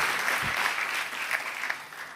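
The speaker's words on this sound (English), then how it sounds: "So please give a round of applause for Matthew." Audience clapping at a youth summit panel session, moderately loud and steady across the whole stretch, with one low thump near the start and no talk over it.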